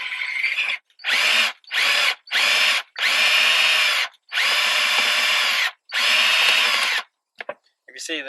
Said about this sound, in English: it gets to a point where the drill sticks in there and then it just comes away anyway